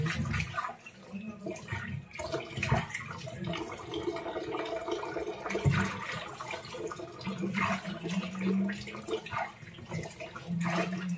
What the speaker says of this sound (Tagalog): itong gripo na ginagamit ko kasi mahina yung dito sa aming lababo